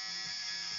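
A cheap electric shaver runs while shaving a head, giving a brief, steady, thin electric buzz, close and fairly quiet with no talk.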